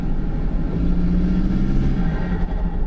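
Loud, steady low diesel engine rumble from a modified Toyota Fortuner SUV with a 2KD engine and VGT turbo idling nearby, with a deep, throaty exhaust drone and no voices.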